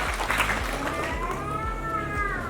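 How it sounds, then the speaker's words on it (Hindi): An audience claps at a government event where a minister is being honored, giving a dense, steady patter of many hands that stays even and moderately loud, with a voice speaking over it and crowd noise around. "बजाइए आप लोग ताली"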